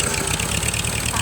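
A flooded tractor engine with a carburetor problem runs roughly at idle, a loud, steady, close chugging rumble throughout the short stretch.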